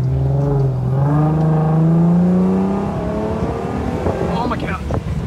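A tuned Volkswagen MK6 GLI making over 400 horsepower accelerates hard from inside the cabin, its engine note climbing steadily and loudly before easing off, with people talking and reacting as it fades.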